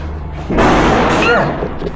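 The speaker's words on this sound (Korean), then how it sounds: "두알리라는 축제 때문에 계속 저 폭죽이 터지거든요" Fireworks bursting during the Diwali festival in New Delhi, India: a sudden loud blast, then a sustained crackling roar with whistling streaks, close and dense, under faint background voices.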